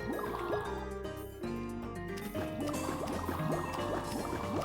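Bubbly, gurgling water sounds from a baby ghastling swimming in water in Minecraft, a dense continuous liquid burble with warbling tonal chirps layered over it, steady and fairly loud throughout.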